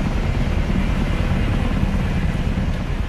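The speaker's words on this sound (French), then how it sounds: "c'est encore une fois celle de l'hélicoptère. Le son qu'il produit est bien évidemment très bruyant." Helicopter rotor noise inside the cabin in the film Arrival, a loud, steady, dense roar that fills the whole span evenly with no voices audible over it.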